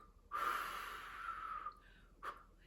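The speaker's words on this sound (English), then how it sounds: "Maybe you do that exercise where you blow out the candle." A single strong breath is blown out sharply, as when blowing out a candle, followed by a short second puff, close and fairly quiet.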